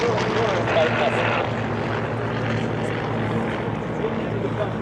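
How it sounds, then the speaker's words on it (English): A Douglas Skyraider warbird flies past at an airshow, its propeller engine giving a broad, steady drone that fills the scene at constant loudness, with crowd chatter faintly underneath. "Skyraider coming back in now."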